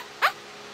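A person makes a single short bark-like sound imitating a dog, one brief close yelp standing alone in quiet.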